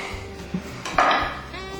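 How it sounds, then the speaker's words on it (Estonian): A metal pot clanks as it is set down on a stovetop in a kitchen, a couple of close, light knocks and a brief ringing scrape against a steady low background hum. "Praegu ma panen potti peale."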